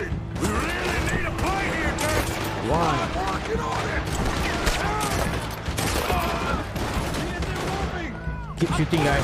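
Rapid gunfire crackles throughout a video game shootout, with dense overlapping shots from several weapons, mechanical clatter and voices shouting amid the steady barrage.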